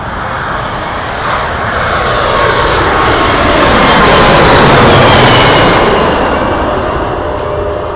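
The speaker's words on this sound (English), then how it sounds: "standing right under a 747 about to touch down at LAX runway 24 right" A Boeing 747 passes low overhead while landing on runway 24 right at LAX, its loud jet engine roar swelling to a peak midway and slowly easing off, with no talking.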